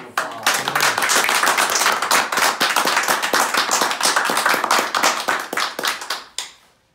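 A small group claps steadily at an orphanage gathering, with dense hand claps that hold for several seconds before thinning out and stopping at the end.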